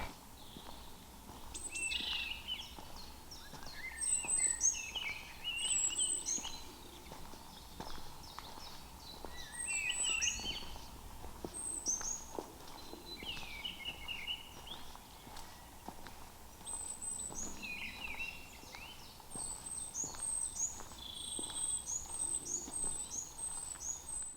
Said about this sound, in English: Most delightful and pleasant too, particularly with the birdsong and the blossom around.